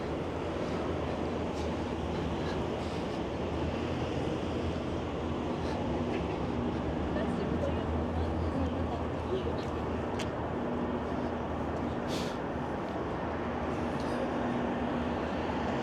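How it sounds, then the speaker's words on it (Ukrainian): A steady low rumble of rail wheels and motor drones throughout as a tram rolls past on a Toronto city street, with a voice speaking over it. "Трамвай по ній ходить."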